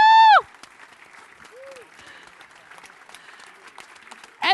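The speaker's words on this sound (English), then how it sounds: "a big round of applause for all of them" An audience at a tech conference opening claps softly and steadily in the background, with a loud whoop at the start and a short voiced cry near the end.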